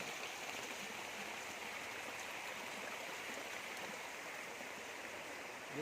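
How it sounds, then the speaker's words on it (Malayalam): Water in a swollen stream rushes and gurgles in a steady, unbroken, strong flow after rain, heard alone and from a little distance. "അതിശക്തമായ ഒഴുക്കിലൂടെയാണ് വെള്ളം പോണേ"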